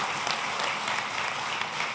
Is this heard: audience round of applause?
yes